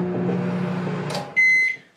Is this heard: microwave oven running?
yes